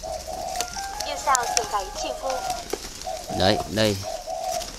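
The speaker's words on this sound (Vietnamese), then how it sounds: "những chú chim này là những chú chim mã ngỗng phấn hồng, đuôi dài, được chuyển đi làm giống ở trong khu vực ở miền Nam" About a hundred caged doves, long-tailed pink-breasted birds, cooing repeatedly at a bus station in Saigon, with someone talking briefly over the close, steady calls.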